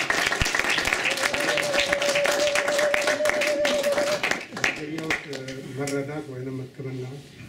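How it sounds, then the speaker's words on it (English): Audience at a 2019 graduation ceremony applauds with loud, dense clapping that rolls on for several seconds, then fades into talk with a sustained tone under the clapping. "I would like you to, everybody, to applaud for everybody"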